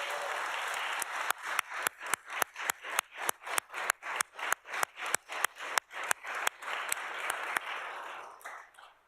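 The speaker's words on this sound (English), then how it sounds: "just give everybody a round of applause" Audience at a Nevada Certified Public Manager Program graduation ceremony applauding, a continuous bed of clapping from many hands overlaid by a rhythmic train of sharp, evenly spaced claps that fade out near the end.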